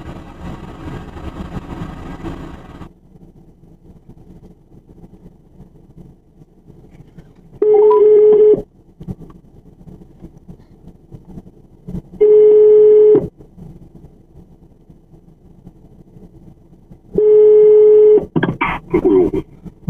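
Telephone call tones: a steady ringback tone sounds three times at even intervals of about five seconds, with quieter background hum between rings and a brief burst of noise after the last ring.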